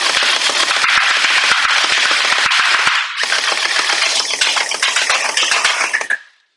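Rapid bursts of fire from an Oskeray AK74 gel ball blaster, loud and close, a dense rattling stream of shots with a brief pause near the middle before firing resumes and then stops.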